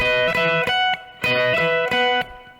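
Electric guitar plays the next part of a riff, short repeated chordal stabs in a choppy rhythm, close and clear without talking.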